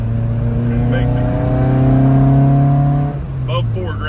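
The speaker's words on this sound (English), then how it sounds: "that's those 4 intakes just humming crazy" A 1979 Fiat 124 Spider 2000 with dual 44 IDF carburetors hums loudly and steadily under load, its engine note climbing slightly before dropping off sharply near the end.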